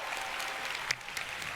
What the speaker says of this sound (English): one more time, a round of applause for the volunteers